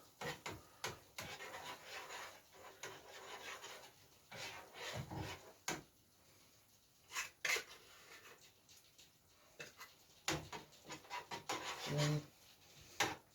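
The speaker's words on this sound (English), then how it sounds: "Give it a quick stir." Spoon scraping and rubbing through a tuna and spinach sauce in a pan, a steady run of short, close strokes with brief pauses between them and no talking.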